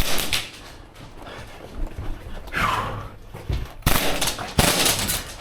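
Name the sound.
Krytac Maxim 9 airsoft gun firing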